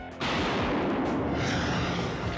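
A Mosin three-line rifle with its bayonet fixed on the right of the barrel fires a single loud, sharp shot that rolls into a long, heavy echo lasting a couple of seconds.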